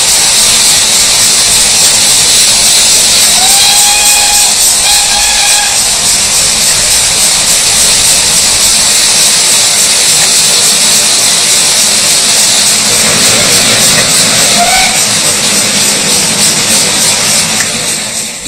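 A King Edward I class steam locomotive, No. 6024, roars and hisses loudly and continuously, with a couple of short whistle calls rising above the din.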